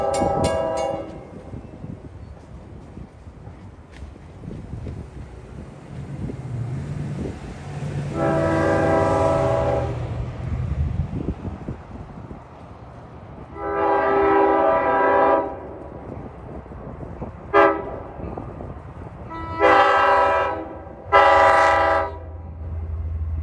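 A Long Island Rail Road commuter train bound for Patchogue rumbles past nearby. Its horn sounds in a long blast, then a series of shorter blasts, the last two coming close together.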